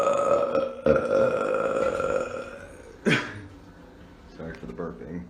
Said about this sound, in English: Sorry for the burping.